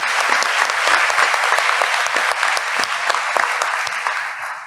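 Sustained audience applause at the opening session of a congress, a dense steady wash of many hands clapping with no voices standing out.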